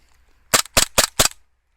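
An airsoft USP pistol running on green gas fires four quick, sharp snapping shots in an even rhythm, close and loud, with no talk over them.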